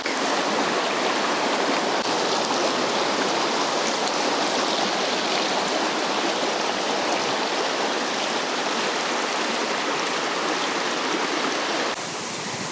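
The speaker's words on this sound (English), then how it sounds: "I'm assuming this river ends up in the lake." A river rushes through a village near Mondsee, Austria, a steady broadband roar of flowing water that stays loud and unbroken throughout, with no voices, ending abruptly.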